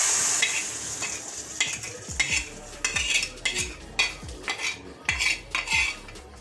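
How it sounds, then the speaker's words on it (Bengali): Spice tempering for vegetable dal in a pan, a hiss of hot oil under a quick run of metal spoon scrapes and clinks against the pot that grows busier, close by with no talking. "তারপর আমি এটাকে বাগার দিয়ে দিচ্ছি ডাল"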